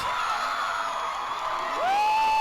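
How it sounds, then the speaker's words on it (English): A large crowd cheering, whooping and yelling continuously in a played-back recording, with a sustained loud whistle-like whoop rising near the end. "Listen to that crowd"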